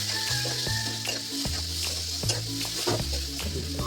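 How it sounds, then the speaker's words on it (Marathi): Tomato with coriander-cumin powder and salt fries in oil, a bright continuous sizzle with rhythmic scraping strokes of a spatula against the pan, close up and steady with no talking. "टोमॅटो सर्व धने जिरे पावडर टाकून मीठ टाकलं चवीनुसार आणि तेलावर व्यवस्थित परतून घेतलं."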